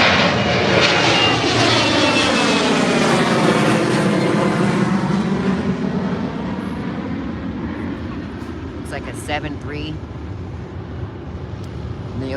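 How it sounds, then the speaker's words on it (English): A jet airliner taking off from DCA airport roars loudly past nearby, its engine whine sweeping down in pitch as it passes, then the rumble gradually fades into the distance. "planes are taking off on this direction, right in front of us"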